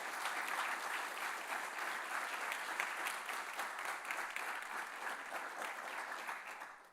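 A symposium audience claps for volunteers in a sustained, even round of applause, moderately distant and fairly quiet, continuing without talk before tapering slightly at the end.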